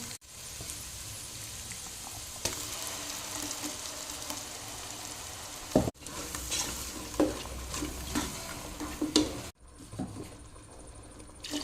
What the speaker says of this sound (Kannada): ಇದಕ್ಕೆ ಒಂದು ನೀರುಳ್ಳಿಯನ್ನು ಹಾಕಿ ಇದನ್ನು ಫ್ರೈ ಮಾಡ್ತೇನೆ